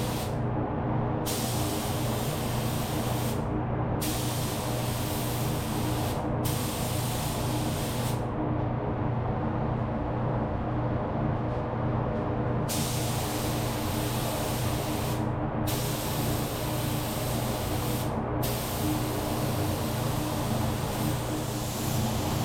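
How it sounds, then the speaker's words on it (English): Spray gun fitted with a Porphis PRD 717 split nozzle applying a third coat of solid black base paint, heard as bursts of loud hissing spray separated by short pauses, over a constant low booth hum. "Just making sure I'm getting everything that needs to be hit with some paint."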